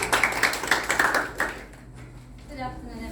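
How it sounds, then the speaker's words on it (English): Brief audience applause at a poetry reading, a cluster of rapid hand claps for about a second and a half that fades out quickly, followed by a voice beginning to speak. "applause to Samal Aubakirova with her speech, Poetry Reading, Samal Aubakirova."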